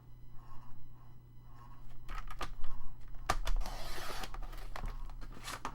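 Paper being cut for a junk journal, with scratchy slicing strokes and a burst of tearing-like rustle in the middle, close and moderately loud over a low steady hum.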